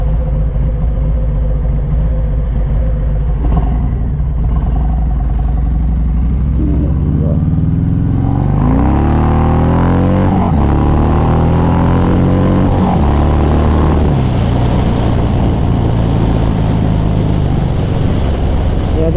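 A Harley-Davidson Sport Glide motorcycle with a stage 1 upgrade rumbles loudly throughout, its engine note climbing as it pulls away partway through and then holding a steady, deep drone with wind noise.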